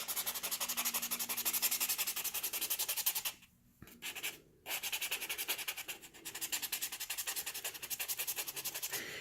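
Sanding a polymer clay cabochon by hand: rapid, rhythmic scratchy rubbing strokes, close and clear, with a brief pause partway through before the steady back-and-forth resumes.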